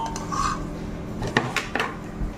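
Metal dishes and a serving spoon clink and clatter while sabzi, a vegetable dish, is served in a home kitchen, with a few bright, close knocks and scrapes standing out over a low background hum.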